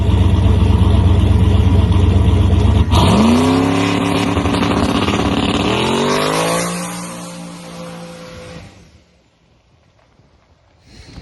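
A Chevrolet Nova drag car launches hard down the track: a loud, close engine roar rises sharply through rapid gear-driven pitch sweeps, then fades into the distance within a few seconds, leaving quiet background.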